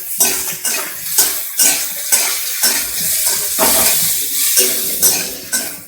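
A spoon stirs grated carrot and boiled vegetables into wheat rava upma in a pan, with about a dozen rhythmic scraping strokes against the metal over a faint sizzle.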